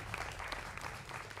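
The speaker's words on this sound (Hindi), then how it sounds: "जोरदार तालियों से मेरे युवा मित्रों का भी अभिनंदन है" A young audience in a TV studio claps, a dense burst of applause that holds steady for a moment with a faint murmur of voices underneath.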